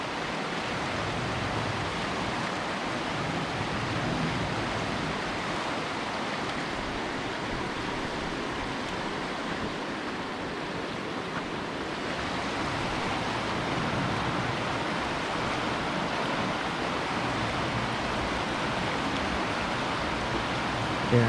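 Water of the Middle Fork Snoqualmie River, a clean, silt-free mountain stream near North Bend, Washington, rushes continuously in a broad, even hiss with no voices.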